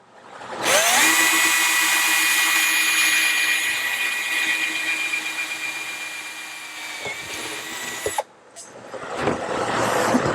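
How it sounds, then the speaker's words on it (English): A power drill with a metal bit whines loudly and steadily for several seconds while drilling through metal, its pitch sagging under load, then cuts out briefly before starting up again. "getting a drill bit that's for metal"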